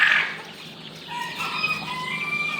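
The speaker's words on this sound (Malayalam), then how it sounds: "കോഴിയാണ്" A native chicken at a backyard poultry farm gives a sharp squawk, then after a short lull breaks into a drawn-out, wavering crow-like call that carries nearby.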